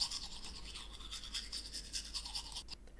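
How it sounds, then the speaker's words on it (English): Teeth brushed with a toothbrush, a rapid series of close, rhythmic scrubbing strokes heard alone that stop abruptly near the end. "It's time to brush those superhero teeth."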